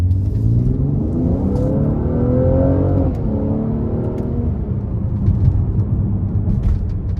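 A 2023 Mercedes-AMG GLC 43 Coupe with a twin-turbo V6 accelerating under throttle inside the cabin, a loud rising engine drone that climbs in pitch, eases off, then settles into steady road rumble.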